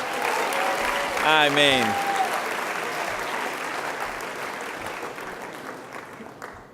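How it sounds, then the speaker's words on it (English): Applause from a seated audience at a talk on healing war's hidden wounds, a steady clapping wash that gradually fades; a voice briefly speaks over it early on. "We got to give a round of applause to Bob Roth."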